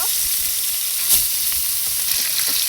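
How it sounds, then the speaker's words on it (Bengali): Fish pieces fry in hot oil in a wok, a loud close sizzle running the whole time, with a brief louder burst near the middle as a piece hits the oil. "এবার কড়াইতে তেল গরম হয়ে গেছে। আমরা মাছ একটা করে মাছ দিয়ে নেব।"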